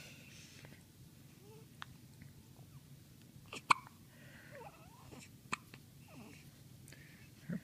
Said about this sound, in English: I commented earlier that your rolls jiggle when you hiccup.